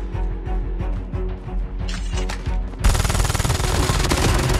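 Rapid automatic fire from a MAC-10 submachine gun in a video game, loud bursts of fast shots that swell into a dense continuous fusillade near the end.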